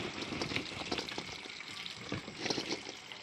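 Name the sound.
pouring hot water onto pili nuts to soak them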